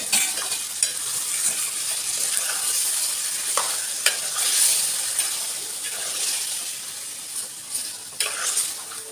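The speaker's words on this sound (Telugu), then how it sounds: "చికెన్ వేసుకొని కలుపుకుందాం మళ్ళీ" Chicken pieces stirred and frying in a pan for a curry, a continuous bright sizzle with scraping stir strokes and occasional sharper hisses, close and fairly loud.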